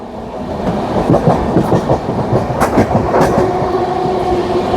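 The Prayagraj Express, a train running between Delhi and Ranchi, passes close at full speed with a steady loud rumble and rhythmic clickety-clack of wheels over the rails, and no voices.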